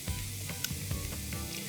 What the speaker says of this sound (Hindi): ब्लू बैंड मार्जरीन में हमने प्याज और लहसुन को सॉटे किया